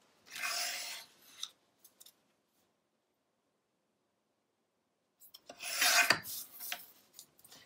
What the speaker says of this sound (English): So we're going to trim this down so we have a nice mat all the way around it.